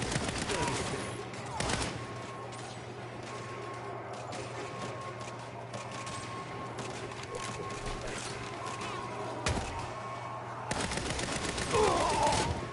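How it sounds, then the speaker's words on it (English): Sustained video game shootout with bursts of gunfire running throughout, dense and fairly loud, with sharper spikes near the start and end and a voice talking over parts of it. "I mean shoot my way out."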